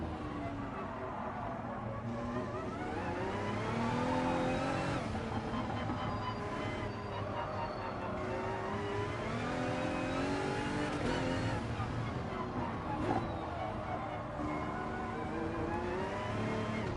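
Gran Turismo Sport race cars in a one-hour Group 1 endurance race at the Nurburgring GP circuit, engines revving and shifting continuously with climbing and falling pitch, several cars close together, loud and sustained with no talk.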